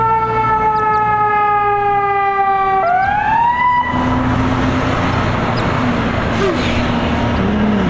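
Emergency vehicle siren wailing after a road accident, a loud rising and falling tone that sweeps upward mid-way, then fades into steady traffic noise.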